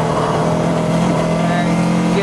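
A saloon race car howls around a track in a long left-hander, its engine droning loud and steady in a held gear with sustained harmonic tone; a voice may be faintly present.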